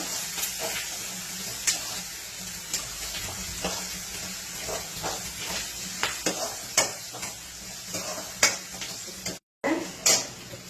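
Onion, curry leaves and green chilies sizzle in a hot oil tempering with urad and chana dal in a pan, with a steady frying hiss punctuated by repeated clinks and scrapes of a spoon stirring against the metal.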